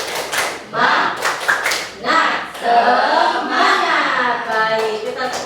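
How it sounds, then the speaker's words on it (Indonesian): A class of children claps together in a rhythmic spirit clap, bursts of clapping in patterned groups mixed with voices chanting along. "Tepuk semangat dulu yuk. Tepuk semangat."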